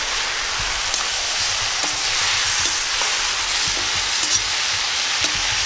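Chicken legs fry in a pan, giving off a loud, dense, continuous sizzle, with periodic soft scrapes and knocks as the pieces are stirred.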